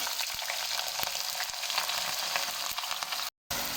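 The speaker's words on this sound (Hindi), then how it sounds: "प्याज को हम लाइट ब्राउन होने तक अच्छी तरह फ्राई करेंगे" Finely chopped onions fry in hot oil for a minced meat and bell pepper curry, giving a steady, bright sizzle with occasional stirring clicks and a brief dropout near the end, with no voices.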